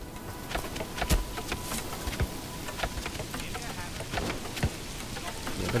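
Rain falls in the medieval city-building game Manor Lords during a stormy day, a dense crackling patter with scattered sharper drops and a faint buzzing hum, heard alone without talk.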